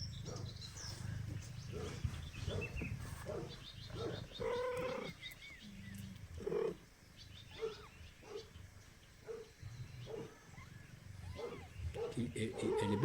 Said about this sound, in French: Ah, mais ça, c'est la voix de Mama Chat.